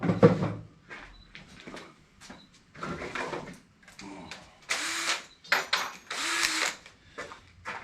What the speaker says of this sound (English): Let me see about getting my drill hooked up to it.